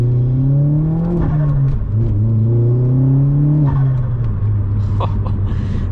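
A Vauxhall Astra VXR's engine revs loud and close throughout, its pitch climbing through the gears in steady pulls with brief dips at each shift, with no talk over it.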